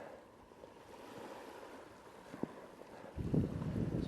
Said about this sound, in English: So definitely got a bit more wind